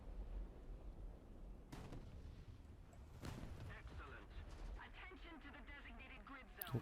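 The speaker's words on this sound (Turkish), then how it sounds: "topçu geldi" Artillery fire in War Thunder while playing the Maus tank, with heavy distant booms and rumbling impacts under a low engine drone, and someone talking over it.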